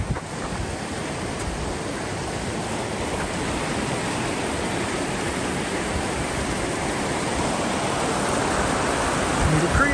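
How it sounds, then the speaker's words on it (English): Needle Creek, a mountain stream in Colorado's Weminuche Wilderness, rushes in a steady, loud, broadband roar that stays constant throughout, heard up close with no other sounds rising above it. "Needle Creek, that's what I've been hiking down all this time."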